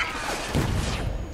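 A grenade explodes in the game Spec Ops: The Line, a loud, broadband burst with a thudding low impact and crashing debris, short and close, fading out quickly.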